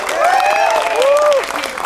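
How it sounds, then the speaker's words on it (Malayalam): An audience at a Kerala press meet for the film Thug Life breaks into steady, loud applause for an actor, with clapping and some crowd noise continuing throughout. "ഒരു കൈയടി സ്പെഷ്യലായിട്ട് കൊടുത്ത് വിളിക്കണം"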